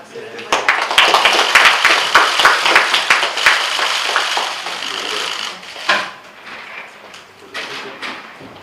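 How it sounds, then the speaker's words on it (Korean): A seated audience at a Korean political party's recruitment announcement claps loudly and briskly, dense sharp hand claps that taper off after several seconds, followed by a few isolated claps and some murmuring. "박수 한번 칠까요?"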